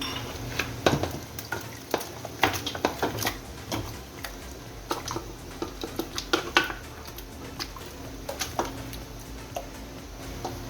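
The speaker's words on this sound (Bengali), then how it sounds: "এখন আমার হেল্পিং হ্যান্ড মাংসটা এর মধ্যে ঢেলে দিবে" Beef is poured into a pot of spices for rezala, bringing a sizzling hiss with a run of clattering stirs, spoon knocks and pot scrapes, close and uneven, with no one speaking.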